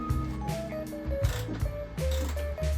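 A ratchet wrench clicks steadily as it unscrews a front fender bolt on a BMW E46 328Ci coupe, the close pawl ticks coming in quick bursts with brief pauses between them.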